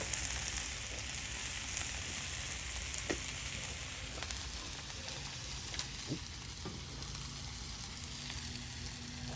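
Meat, onions and peppers sizzle steadily on a hot oiled Blackstone griddle, a continuous dense crackle with faint scattered taps of a spatula, no talking.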